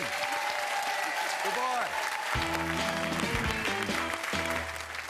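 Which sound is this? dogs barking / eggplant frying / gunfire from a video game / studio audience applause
studio audience applause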